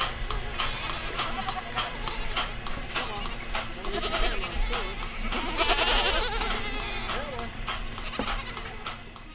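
A goat bleats on a small city farm amid steady background noise and regular ticking clicks, the calls close and fairly loud.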